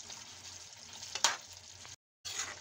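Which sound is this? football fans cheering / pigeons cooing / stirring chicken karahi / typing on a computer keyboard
stirring chicken karahi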